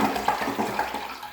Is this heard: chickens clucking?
no